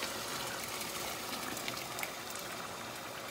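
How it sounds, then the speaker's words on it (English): Water is poured over hot barbecue food, giving a broad, steady hiss and gush with faint crackles, close by and fairly quiet, continuous with no speech. "pour your water in over"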